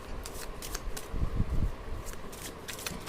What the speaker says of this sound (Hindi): चलिए कुछ कार्ड्स और निकालती हूँ मैं फ्रॉम दिस डेक।